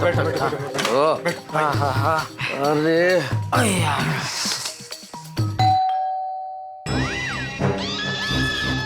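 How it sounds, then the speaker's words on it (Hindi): A doorbell chimes inside a home, ringing out in clear sustained tones partway through, with lively talk from several people before and after. "अरे तो ये कौन घंटी बजा रहा है"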